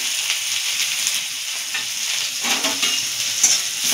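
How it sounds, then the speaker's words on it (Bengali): Chopped onion frying in white oil with nigella seeds and dried chili in a kadai, a steady close sizzle with light stirring scrapes throughout, no voices. "এবার একটু পেঁয়াজ কুচি দিয়ে এটা ভেজে নেব।"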